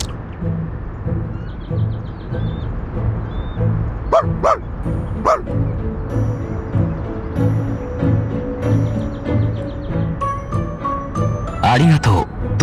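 A video game dog, a robot translator device scene, gives several sharp barks and yips, followed by softer whimpering and electronic blips, over background game music.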